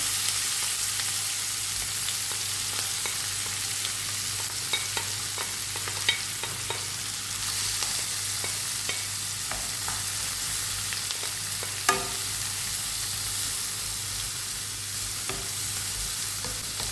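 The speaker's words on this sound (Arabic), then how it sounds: "دوكا في المقله اللي قلينا فيها الدجاج نحطوا البصل تاعنا" Onions frying in a pan that was just used to fry chicken, giving a steady close sizzle with occasional light stirring clicks and scrapes.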